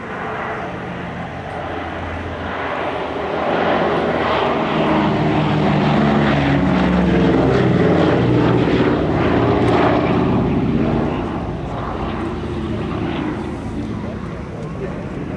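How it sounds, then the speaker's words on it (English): Two Boeing B-17 Flying Fortress bombers escorted by a P-47 Thunderbolt fly past at the Duxford airshow, a loud droning propeller rumble swelling and fading, with a commentator talking over it. "What a wonderful sight, 2 B-17s in the air at the same time."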